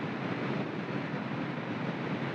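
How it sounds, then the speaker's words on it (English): Steady, loud wind roar buffeting the microphone while riding a 2022 Kawasaki Ninja 650 motorcycle, a constant broadband rush with no pauses. "Hopefully the wind isn't too much for you guys"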